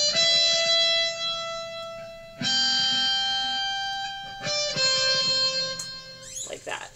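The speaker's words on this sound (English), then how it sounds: "In any case, we're going to play it on the guitar." Electric guitar playing a counter melody part for the worship song Salvation's Tide, heard alone with sustained, effects-laden notes that swell and fade in several phrases, switching toward the rhythm pickup near the end.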